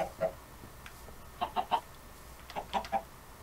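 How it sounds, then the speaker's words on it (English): Chickens on a chicken farm in Minecraft, short soft clucks arriving in small bursts of two or three, fairly quiet against a low background hum. "Yeah, we've been pushing more chickens into there."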